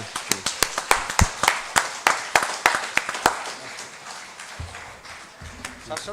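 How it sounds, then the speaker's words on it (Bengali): A handful of people at a regional business summit clap in a sparse, uneven rhythm for Sayan, the individual claps distinct and fairly close, tapering off into quiet room tone with faint murmuring. "তো সায়নের জন্য একটু জোরে হাততালি হয়ে যাক।"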